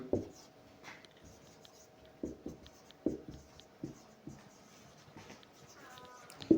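Marker or pen scratching across a board or page during a rational numbers math lesson, short irregular strokes and squeaks in bursts, close and fairly quiet with a faint steady hum beneath.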